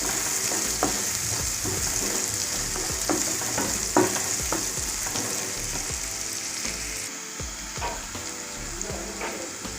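Finely chopped onion fries in a pan for bhindi masala, giving a constant close-up sizzle dotted with soft stirring clicks and no voices.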